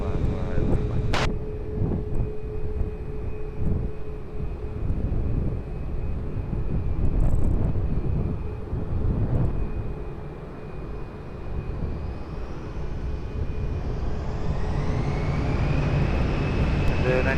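A jet airliner at Lisbon Airport, its broad engine roar steady throughout and rising into a whine near the end, mixed with wind buffeting on the microphone and a faint radio voice.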